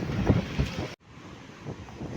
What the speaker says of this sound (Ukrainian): Ну і вітер.